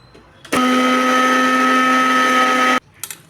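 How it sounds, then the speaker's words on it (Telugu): Mixer grinder grinding black sesame seeds, a loud steady motor whine starting abruptly and running for about two seconds before cutting off, close up with no talking. "ఇప్పుడు నువ్వులు ఫస్ట్ ఒకసారి మిక్సీ తిప్పండి"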